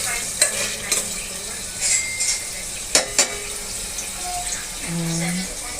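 Food frying in a pan while being stirred, with sizzling under scraping stir strokes and a few clatters, heard close up with a voice speaking briefly over it.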